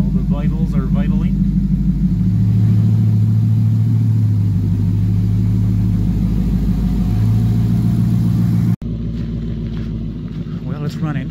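A car engine with a fuel rail problem runs at a steady low drone with slight shifts in pitch, loud and close, while someone talks briefly over it.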